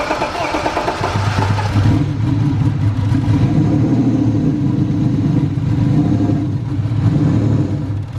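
A BMW E36's rebuilt M52B25 straight-six cranks and catches, then settles into a loud, rough idle with uneven revs, close up.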